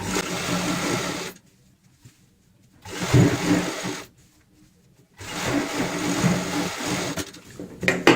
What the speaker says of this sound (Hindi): अब हम यहाँ पे चेक करते हुए इस लास्ट सिलाई को पूरा करेंगे